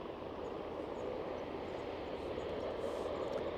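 A WestJet airliner taxis past at Aberdeen airport, its engines producing a steady, broad roar that stays constant and fairly loud throughout, with no voices over it.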